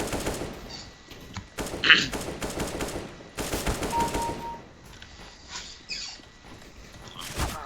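Rapid bursts of automatic gunfire from a CS:GO match, several volleys in quick succession with brief gaps and sharp individual shots, loud and close throughout with no talk.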